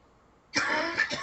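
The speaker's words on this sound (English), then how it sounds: "Excuse me, she said, coughing." A woman gives a short cough, a quick burst after near silence during a radio show.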